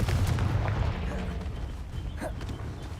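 A fiery Confringo spell explosion in Hogwarts Legacy, a booming, crackling blast up front that rumbles and tails off into a lingering burst of combat noise.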